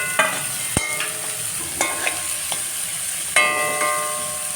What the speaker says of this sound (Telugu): ఈ ఉల్లిపాయలు తరిగి పెట్టుకున్న ఉల్లిపాయలని ఇందులో వేస్తున్నాం